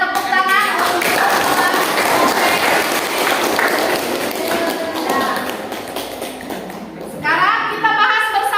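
A class of students in a school lesson breaks into loud, dense clapping that carries on for several seconds, with children's voices mixed in.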